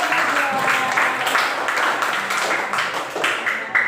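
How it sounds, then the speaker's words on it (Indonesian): Children clap together in a classroom after a teacher's lesson, a steady, dense patter of small hands lasting several seconds with some voices mixed in. "tepuk tangan untuk"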